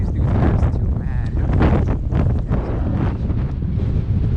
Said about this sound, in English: Super windy day. Sorry you guys can't really hear me. Winds are easily 30 miles an hour.